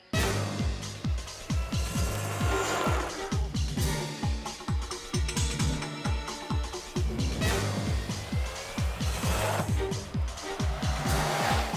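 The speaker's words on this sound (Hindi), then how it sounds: "माया जल्दी चलाओ, सीआईडी वाले हमारे पीछे हैं।" A car races fast during a chase, its engine revving and surging in repeated loud bursts with gear-change pulses and occasional tyre noise, close and continuous.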